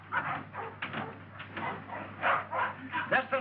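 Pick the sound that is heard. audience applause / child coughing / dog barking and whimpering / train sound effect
dog barking and whimpering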